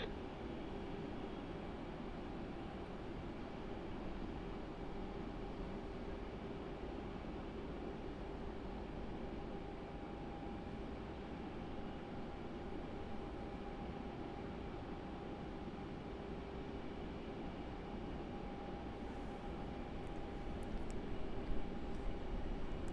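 Jet airliner taking off from runway 27 at Melbourne Airport, a steady broad roar holding throughout with a faint tone above it, fairly distant, swelling slightly at the end.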